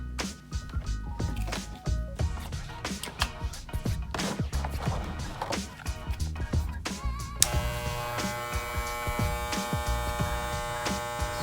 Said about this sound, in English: Now we're gonna connect it to see how the motor feels.